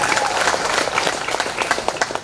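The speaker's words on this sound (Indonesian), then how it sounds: "Tepuk tangannya." Dense applause from a school farewell ceremony audience at SMP Negeri 1 Banggai, loud and fairly near, with individual claps poking through the wash of hands.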